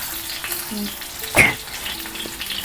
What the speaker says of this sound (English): Now I am making both sides fry in this.